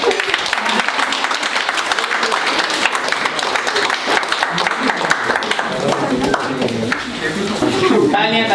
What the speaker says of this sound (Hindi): ताली हो जाए प्लीज एक बार